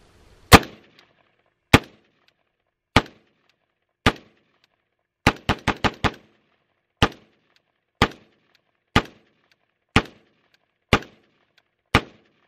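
Sharp gunshots from a 7.5 inch PWS rifle chambered in 5.56, fired outdoors: about fifteen loud cracks, spaced singles with a quick burst of five in the middle, each followed by a brief decay, with no talking.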